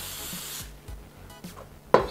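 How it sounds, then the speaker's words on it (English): Oil spray hisses onto the outside of a tortilla in a short burst, followed by a few light taps and rubbing sounds as it is handled, close and quiet overall. "I'm gonna spray the outside of the tortilla with a little bit of oil"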